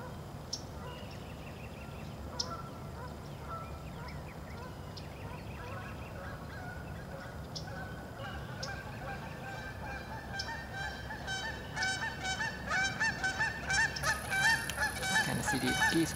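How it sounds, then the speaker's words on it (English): A flock of geese honks repeatedly near an otter eating a fish, the calls growing denser and louder toward the end, with no talk. "Kind of see these geese crowd in."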